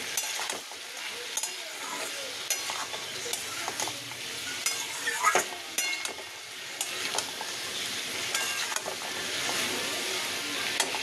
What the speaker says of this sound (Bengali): এবার মশলা দিয়ে টমেটো দিয়ে কষিয়ে তারপর দিয়ে দেবো গরম জল।